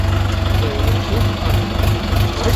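A Chinese-made Scout tractor engine idles nearby with a loud, steady, low, throbbing chug that keeps an even rhythm the whole way through.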